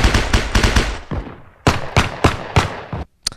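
Loud, close gunfire from a World War I shooter game, with submachine guns, pistols and an anti-tank rifle: a quick cluster of sharp shots, a short pause, then several more evenly spaced bangs, and no voices.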